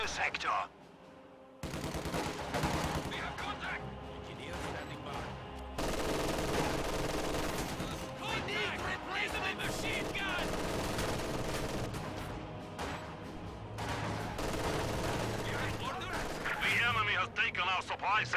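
Machine gun fire crackles through a WWII strategy video game battle, with bursts of automatic shots, explosions and crashes layered densely and loudly over nearly the whole stretch.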